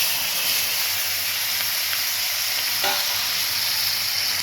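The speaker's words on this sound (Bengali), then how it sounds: "এটা একটু ভালো করে ভেজে নেবো" Capsicum and tomato frying with cumin in a hot pan: a dense, continuous sizzle with a faint stir partway through, loud and close.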